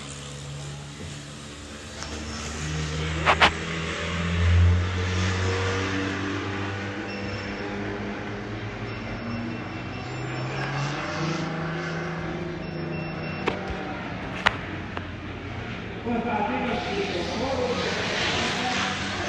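A BMW E36 drift car howls around a practice track, its engine droning and revving at a distance under a commentator's voice, with a couple of sharp bangs mixed in.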